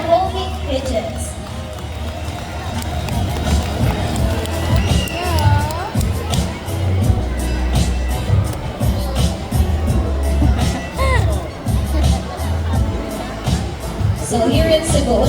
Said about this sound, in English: how about a round of applause for our raptors and our homing pigeons?